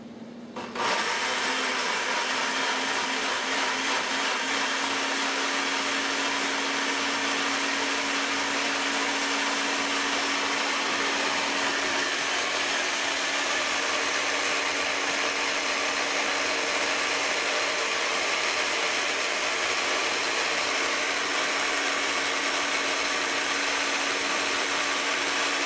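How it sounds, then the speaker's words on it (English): A blender switches on abruptly and purees red pepper quinoa soup, running at a steady, loud, high-pitched whir for a long stretch, with no talking. "put the blender on puree."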